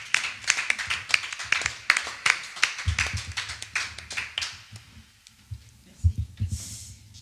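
A church congregation claps in rhythm and cheers in acclamation of the Lord at an evening service, steady hand taps with voices over them, fading briefly before a louder burst near the end.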